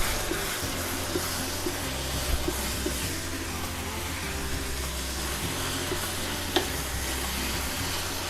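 Shallots are stirred through pork mince in a hot pan, giving a steady, loud sizzle and hiss throughout with occasional scraping clicks of the utensil against the pan.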